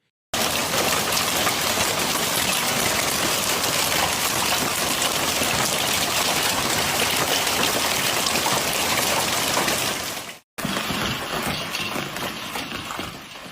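Heavy hail mixed with torrential rain in the city streets of Cagliari or La Seu d'Urgell, a loud, dense, unbroken roar of falling water and rushing runoff, briefly cutting out before resuming just as strong.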